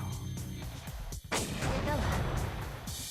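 Tank cannon fires a single loud, close blast in War of the Human Tanks, a sharp boom followed by a long rumbling decay over steady game noise and music.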